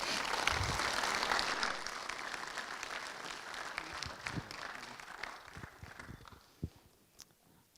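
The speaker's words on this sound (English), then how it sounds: "can we have a round of applause for every one of our veterans that shared" Audience applause at a Korean-Era and Vietnam-Era veterans awards ceremony, a dense burst of clapping from a room of people that gradually thins out into scattered claps and shuffling.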